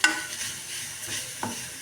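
Green spinach for cheera thoran is stirred in a hot pan. A short scrape of the spoon sounds at the start and again midway over a soft, steady sizzle.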